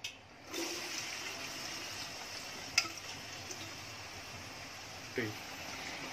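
Chopped onions drop into hot oil for a chicken biryani and fry with a steady close hiss, broken by a couple of brief clinks, while a voice talks over it.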